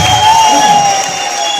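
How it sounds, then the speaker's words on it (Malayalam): An audience at a business meeting cheers and claps in a short, loud burst of crowd noise with whoops, heard alone. "ആ കയ്യടി"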